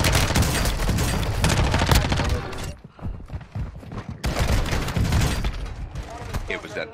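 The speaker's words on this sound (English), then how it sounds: "It's a shotgun, bro." Shotgun gunfire in an online shooter on Ashika Island: loud, dense bursts of shots fill most of the clip, break off briefly, then resume.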